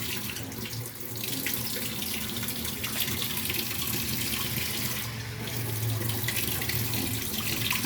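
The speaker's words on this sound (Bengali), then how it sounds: "এর মধ্যে জল ঢালবো।" Water poured into a pan of hot frying oil while making hilsa fish jhal, a steady, loud hissing rush that runs on without a break, nearby.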